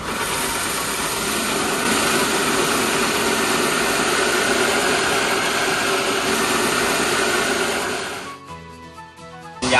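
A 2-in-1 rice milling machine (V.2.2) runs with a loud, steady mechanical drone and hum, then winds down near the end as it shuts off, close and without voices.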